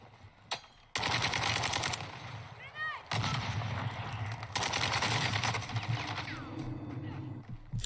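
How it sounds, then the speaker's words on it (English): Rapid bursts of gunfire in the video game Call of Duty: Warzone 2, loud and close, with dense automatic firing across most of the stretch and brief pauses between volleys. "Someone's shooting at me."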